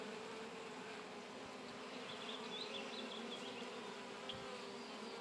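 Honeybees buzzing around an open hive and its queen, a dense, continuous hum of many wings close by, steady and fairly faint with no voices.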